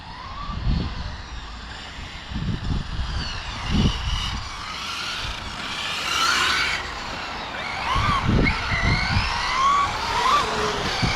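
A 16S truck makes its first run, its engine roaring and surging in repeated bursts with whining tire squeals layered over a continuous mechanical drone.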